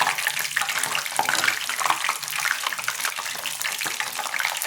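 Kara boondi batter deep-frying in hot oil gives a loud, continuous, bubbling sizzle that never lets up, with no voices.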